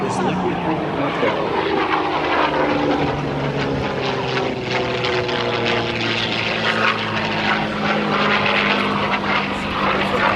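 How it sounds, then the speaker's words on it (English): A P-51 Mustang with a liquid-cooled Allison engine roars loudly and steadily through a dive and super slow roll at an air show in Wisconsin, its propeller drone continuous and close for the whole stretch. "let's listen to the different sound of this engine, this liquid-cooled motor."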